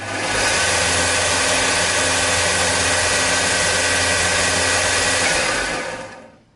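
A Sealey SM750 belt and disc sander with a 250 W induction motor running: a loud, steady whirring hum with a broad airy rush, holding constant for several seconds before spinning down at the end.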